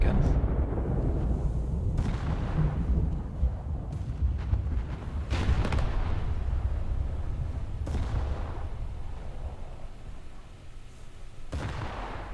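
Heavy booming salvos from a battleship's guns firing AP shells at a Kongo in a naval video game, several deep blasts spread across a steady rumbling background, with someone talking over them.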